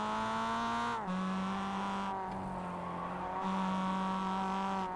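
Mazda MX-5 race cars compete at Summit Point in a spec racing series, with a loud sustained engine drone whose pitch drops and shifts as gears change, continuous and close throughout.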